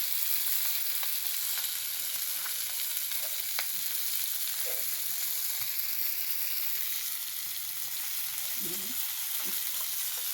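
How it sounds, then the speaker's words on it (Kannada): Mackerel fish frying in a pan, a steady, even sizzling hiss that carries on throughout, close and soft, with occasional faint pops and clicks and no voices. "ಈ ಥರ ಫ್ರೈ ಆಗಲಿ ನೋಡಿ ತುಂಬ ಕ್ರಿಸ್ಪಿಯಾಗಿರುತ್ತೆ ಚೆನ್ನಾಗಿರುತ್ತೆ"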